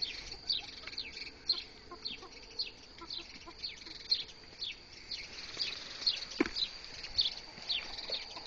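A hen clucks in a series of short, regularly spaced calls, faint and somewhat distant, with one sharper sound partway through and no speech.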